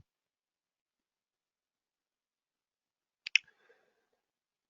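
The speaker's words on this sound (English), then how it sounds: "So we'll go ahead and click invite here." A computer mouse gives a quick double click in a silent room, two tight sharp clicks followed by a faint tick.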